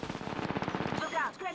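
Rapid automatic gunfire in the battle royale game Apex Legends crackles as a fast, steady stream of close shots for about a second. A voice-like tone overlaps the end.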